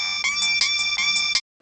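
A bright electronic mobile phone ringtone plays a short repeating melody, then cuts off abruptly.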